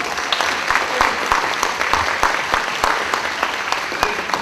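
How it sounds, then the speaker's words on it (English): A concert audience claps steadily and warmly for a solo guitar performer, a dense even patter of many hands that carries on for several seconds without a break. "very warm round of applause"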